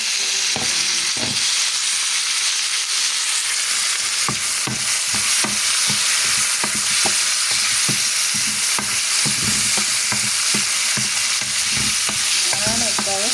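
Tomatoes sautéing in a steel pan for a tomato and chili curry, a steady loud sizzle broken by repeated scraping stirs of a spatula throughout, with no talk.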